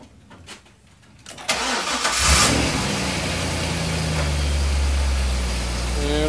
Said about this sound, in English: now we are over to the LS6 motor, and go ahead and start that up